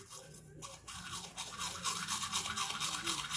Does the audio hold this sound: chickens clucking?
no